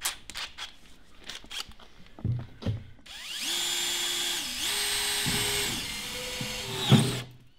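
A power drill bores a hole through the thin metal skin of a fridge, a loud steady high whine lasting several seconds after some light handling knocks, ending with a brief spike and a clatter.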